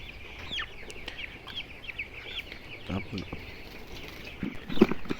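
A flock of 19-day-old broiler chickens in a poultry shed, birds recovering from gout, gives scattered overlapping clucks and short calls at a steady moderate level, with a louder burst of clucking near the end.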